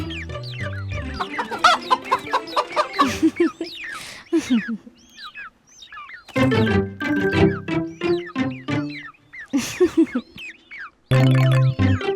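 A cartoon hen clucks repeatedly in short, choppy bursts, mixed with other animated chicken calls and brief pauses, loud and close in a children's animation.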